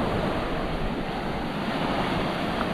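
Strong ocean waves wash onto the shore at Caldibas, a loud, continuous roar of surf mixed with wind buffeting the microphone and no voices.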